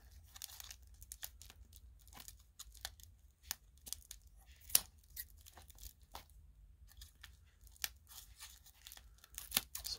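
Scissors snip and crinkle through the foil wrapper of a 2021 FastBreak trading card pack, close and quiet, in a string of small crisp cuts and crackles with no talking.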